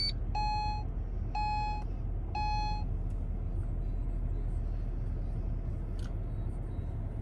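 A 2014 Acura TL AWD starts up, with three quick bursts of repeated electronic chime beeps over a steady low engine rumble, then the engine keeps running evenly on its own.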